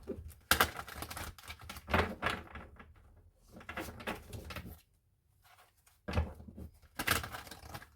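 Tarot cards being shuffled in several quick bursts of riffling and slapping, with short pauses between, close by and fairly quiet, no talking.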